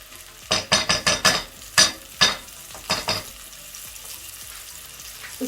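Ingredients for Lahori mutton paya (trotters) are fried and stirred in a pan: a run of close, loud scraping stir strokes and sizzling bursts, then quieter steady sizzle alone.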